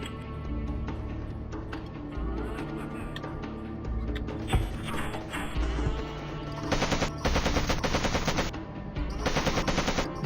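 Automatic gunfire in the video game Made Man rattles in rapid bursts almost without pause, growing denser and louder in the second half.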